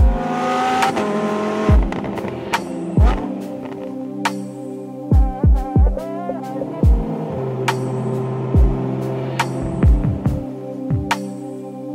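A modified Lamborghini Huracan engine drones steadily while driving, with repeated sharp blips and pops between gear changes rising over the constant hum from inside the car, with no talking.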